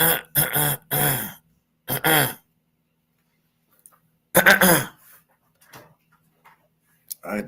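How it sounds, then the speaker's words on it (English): A person clears their throat in several short, harsh bursts, followed by a louder burst after a pause and a few faint trailing sounds in an otherwise quiet room. "I had to clear my throat for a little bit."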